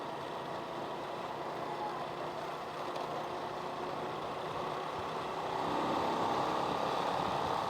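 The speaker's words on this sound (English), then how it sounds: "This traffic is crazy." Road traffic in Thailand, with trucks and cars idling and moving nearby, makes a continuous low engine rumble that swells slightly toward the end.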